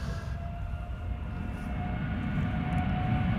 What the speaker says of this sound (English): Dreamliner outbound to Bogota, already spooling up.